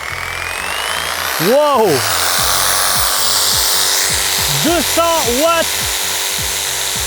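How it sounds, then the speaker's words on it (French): Jigsaw cutting wood while powered by an ALLPOWERS S200 portable battery: a rhythmic buzzing saw stroke runs throughout, briefly rising in pitch twice between cuts, with someone talking over it. "vous avez besoin d'une scie sauteuse"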